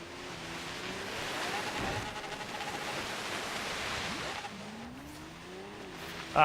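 Heavy Force Gurkha SUV straining uphill, the engine labouring with a rising whine through gear changes over broad road and tyre noise, steady and fairly loud, without talk.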